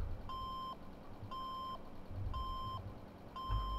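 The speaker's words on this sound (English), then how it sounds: "Got a beep noise" Repeated reversing alarm on a Caterpillar CB32 tandem roller in Farming Simulator 2017: four steady, evenly timed beeps over a continuous low engine drone, with no voices.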